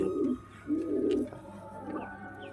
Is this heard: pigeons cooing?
yes